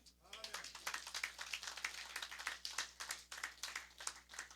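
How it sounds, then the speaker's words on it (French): Easter service congregation at an evangelical church clapping for the Lord, a crowd of hands in quick uneven bursts over nearly five seconds, fairly close, with voices mixed in among the applause. "Est-ce que vous voulez applaudir le Seigneur?"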